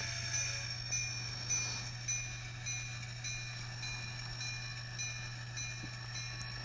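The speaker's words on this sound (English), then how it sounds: "I'm just going to pull the whole train up past the crossover" A model train runs along, a steady motor hum with regular soft rhythmic clicks from the track, faint and continuous.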